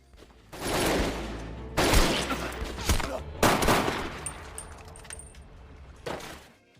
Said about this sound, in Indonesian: Saat Han akan membunuh Jun Sok, tiba-tiba datang sekelompok orang yang menembaki Han.